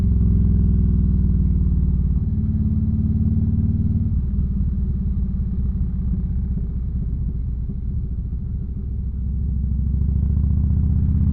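A motorcycle ridden along at a steady pace, its deep engine rumble loud and close throughout with a slight drop in pitch partway, alone with no talk.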